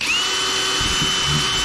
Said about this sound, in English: we'll take our drill bit, now that we have a dimple in the center to start,